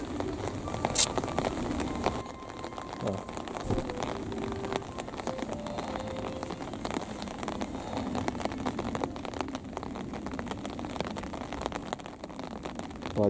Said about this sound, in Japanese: 雨がめっちゃ強くなってきた。